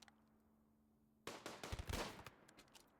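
A sudden burst of gunfire in the video game RimWorld breaks a quiet hum, several sharp rapid shots crackling loudly, then fading into scattered pops.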